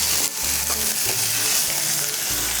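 Ginger garlic paste frying with onions in a pan, a steady broadband sizzle running throughout with brief low thumps of stirring, close and fairly loud, no voices.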